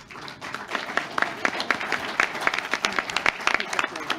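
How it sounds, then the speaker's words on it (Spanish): A forum audience applauds its speakers and moderators with a warm round of clapping that rises quickly and holds steady, individual claps standing out over a general patter of hands. "A todos ellos les damos un fuerte aplauso."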